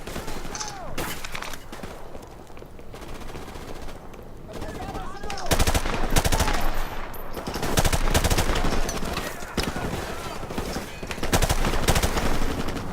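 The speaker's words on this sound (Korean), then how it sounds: "알겠습니다 제압사격 갈기래요" Suppressive machine-gun fire in Call of Duty Modern Warfare Remastered hammers away in long, loud, sustained bursts with only brief pauses, while voices talk over the shooting.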